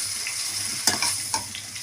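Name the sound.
stirring ground tomato into frying brinjal thokku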